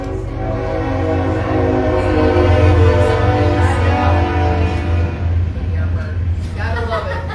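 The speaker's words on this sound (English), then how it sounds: "Gotta love it. I love the train." A train passes with its horn sounding in long sustained tones across the whole stretch, loud and close over rumbling rail noise, while people talk nearby.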